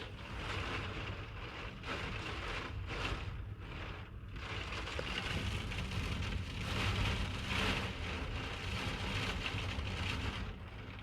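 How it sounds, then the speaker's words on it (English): Rain falls steadily outside, a dense wash of hiss and patter that swells and eases a little, heard indoors with no talk over it. "Listen to that rain."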